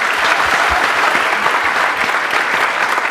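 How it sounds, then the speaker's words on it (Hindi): Audience applause at a live talk event, a dense burst of clapping from a crowd that holds steady and close for about three seconds, with no speech over it. "big round of applause for both of them"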